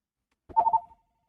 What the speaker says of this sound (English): Who is calling me on my lap phone?